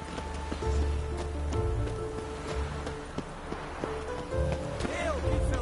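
A horse gallops in The Witcher 3: Wild Hunt, with steady clip-clop hoofbeats running throughout, mixed with game music and occasional voices.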